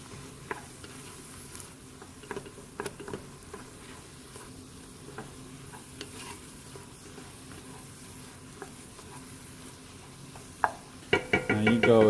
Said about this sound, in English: for right now, I'll saute a little bit. Don't forget to keep stirring